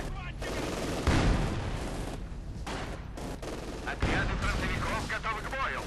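Machine gun bursts and scattered gunfire with explosions ring out in a Company of Heroes 2 battle, dense and continuous, with occasional talk mixed in.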